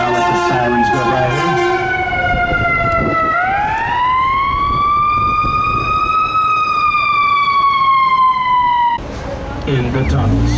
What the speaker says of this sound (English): I'll let the sirens go by